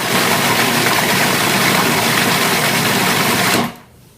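A food processor grinds roasted red pepper for harissa with a loud, steady whirring drone that runs for several seconds and then cuts off, leaving quiet.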